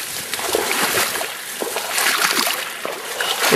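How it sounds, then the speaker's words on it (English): Someone wading knee-deep through a volcanic crater lake, with steady close splashing and sloshing of water against the legs throughout. "And then it's straight into the water."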